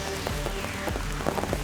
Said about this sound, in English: Wind blowing the rain in any direction that I seem to position my umbrella so it comes in and hits the camera and the phone